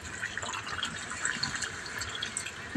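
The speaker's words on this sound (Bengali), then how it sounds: "আমি জলটা দিয়ে দিচ্ছি।" Water poured into a pot of fish curry with tengra fish, a steady close splashing and gurgling flow that runs evenly throughout without pauses.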